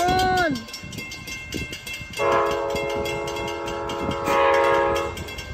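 Train number 91 rolls past at Auburndale, sounding its multi-tone horn in a short blast, then two long sustained blasts over the loud rumble of the passing cars, with people talking nearby.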